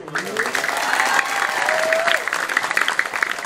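Audience applause at a Balinese Calonarang comedy performance in a temple courtyard: sustained clapping for about three seconds, with voices and tonal sounds rising above it.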